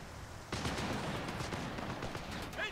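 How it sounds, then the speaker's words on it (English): Dense battlefield gunfire from Company of Heroes 3, a World War II strategy game, breaking out loud after a short lull and rolling on in overlapping bursts with sharp cracks. "enemy fire!"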